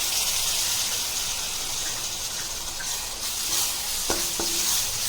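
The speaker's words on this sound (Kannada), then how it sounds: "ಟೊಮೆಟೊ ಹಾಕೊಂಡು ಚೆನ್ನಾಗಿ ಫ್ರೈ ಮಾಡ್ಕೊಳ್ಳಿ." Tomato fries with chili powder and turmeric in a pan for mushroom curry, giving a constant close frying hiss. Occasional faint scrapes and a couple of clicks from a stirring spoon mark the later seconds.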